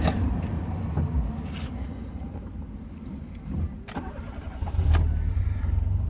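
A Fiat Uno engine cranks and starts after a steering sensor replacement, then settles into a steady idle close by, with small clunks along the way.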